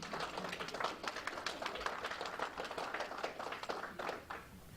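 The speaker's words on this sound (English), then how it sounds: "give them a round of applause for dealing with you in the last year" Graduates of a medical institute turn to face their families and applaud them at a graduation ceremony, a quiet, somewhat distant patter of many hands clapping, uneven and sustained.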